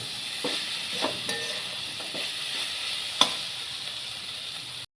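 Soya chunks frying in a pan give a constant low sizzle, broken by a few soft scrapes and taps of a spoon stirring, with one sharper knock near the end and no talk.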